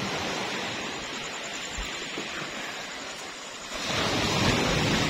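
Ocean waves wash against the shore at a beach where fishing boats are moored on a rough day, a loud, steady roar of surf with wind noise, swelling louder near the end, with no talk.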